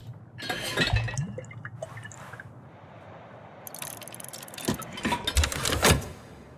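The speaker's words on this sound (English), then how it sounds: "Let's get a glass of water." Water being poured to fill a glass in the video game Book of Hours, a soft liquid trickle with drips that swells twice, first briefly near the start and again more strongly toward the end.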